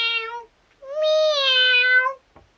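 A voice imitates a cat with two meows, a short one then a long drawn-out one, close and clear in an otherwise quiet room.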